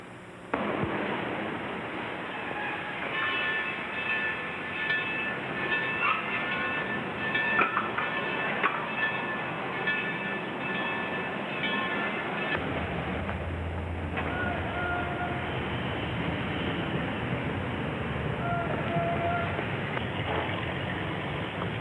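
A train rumbles along steadily in a 1931 film, with a continuous clattering roar and a brief ringing tone partway through, sustained throughout at moderate loudness.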